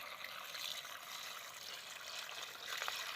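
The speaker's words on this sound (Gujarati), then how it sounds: "પાણી નાખવામાં આવી રહ્યું છે" A soft, continuous trickle of water being poured to mix a herbicide spray for a groundnut field, fairly faint and steady throughout, with no talking.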